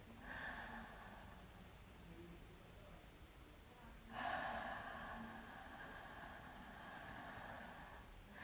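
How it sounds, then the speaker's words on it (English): Slow, controlled deep breathing as a relaxation exercise for musicians: one long, soft, airy breath fills the first half, then a stronger, slightly louder breath follows. Both are close and unhurried with no talk. "So 5 while taking the air in, and 6 while getting the air out, slowly and very controlled"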